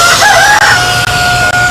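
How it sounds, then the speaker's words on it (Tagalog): Chickens on a farm, with roosters crowing and clucking loudly close by, the calls overlapping in a continuous, busy stretch with no talking. "dadalhin ko na itong aking mga manok"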